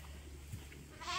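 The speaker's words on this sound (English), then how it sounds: "So this pen has the oldest of the lambs." Lambs in a pen on a sheep farm where lambs are bottle fed, giving a soft bleat mid-clip, then a louder, brighter bleat rising at the end over quiet barn background.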